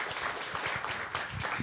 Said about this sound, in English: a round of applause for the magnificent Molly Johnson